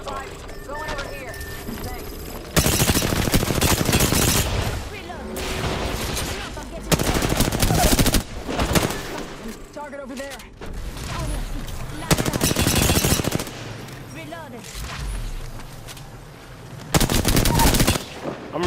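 Rapid automatic gunfire in Apex Legends, with loud clustered bursts of shots recurring across the round over steady battle noise and voices.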